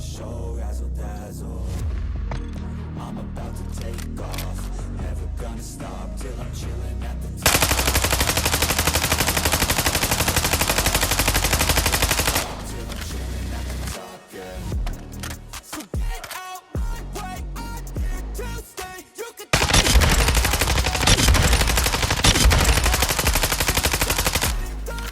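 Bursts of automatic fire come from a Lachman 5.56 rifle in Warzone 2, loud and dense, set apart by stretches of quieter game noise and scattered single shots, with a long sustained volley near the end.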